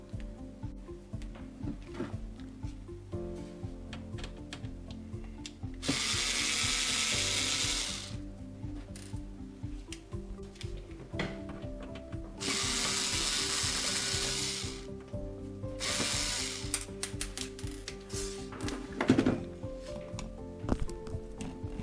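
A powered screwdriver backs screws out of a DroBo B810n NAS case in three bursts of high whirring, separated by quieter handling clicks and small tapping of metal parts, heard up close.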